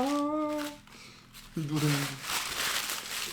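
Gift wrapping paper crinkles and rustles in close, handled bursts during a birthday unboxing, with louder crumpling in the second half and a voice briefly heard.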